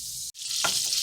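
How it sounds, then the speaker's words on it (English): Brioche French toast sizzles in a frying pan, a steady close hiss broken by one brief drop to near silence, then a fresh burst of crackling as the slice settles in. "Then we're going to put it in the frying pan."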